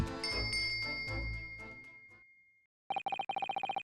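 A bell cord is tugged in The Great Ace Attorney video game, setting off a rapid, insistent ringing bell that repeats in quick bursts after a sustained musical passage fades out.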